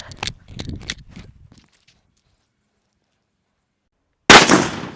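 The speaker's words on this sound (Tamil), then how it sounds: "சின்ன சைஸ் வெடி அதாவது சனல் வெடி வந்திருக்கு இதை தான் நம்ம ஃபஸ்ட்டு வந்து வெடித்து பார்க்க போகிறோம்" A small sanal vedi firecracker bursts inside a water can with one sharp, loud, close bang after a few seconds of silence, preceded by brief rustling and handling noises.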